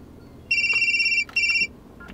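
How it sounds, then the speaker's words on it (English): A phone plays an electronic ringtone for an incoming call, two short bright warbling bursts close by against quiet background. "Incoming call. Press the phone button to answer."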